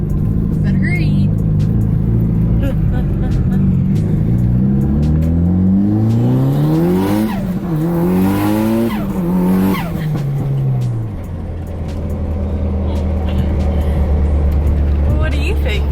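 A Mitsubishi Evo 8 engine revs hard under sustained acceleration through a U-turn, its pitch sweeping up and falling away before settling into a steady low drone, with people talking inside the car over it.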